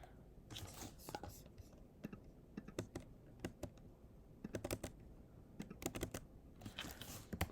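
Python code for a PacMan game is typed on a computer keyboard, producing quick irregular clusters of key clacks, close and faint, with soft whispered sounds among the keystrokes.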